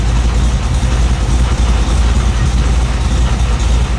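A 1970 TransAm clone's V8 idles low and steady, a loud close throbbing rumble of exhaust pulses running unbroken for four seconds without talk.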